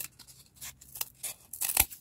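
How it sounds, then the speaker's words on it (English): Scissors snip quietly at close range in a craft setting, giving several short, crisp cuts spaced irregularly with no talking. "I snipped my finger in between the scissors."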